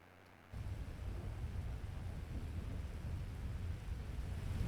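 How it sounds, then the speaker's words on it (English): Video game rain ambience with rolling thunder switches on abruptly after a brief quiet moment, then holds as a steady, fairly soft hiss of rainfall over a deep, continuous rumble. "So yeah, this is the rain."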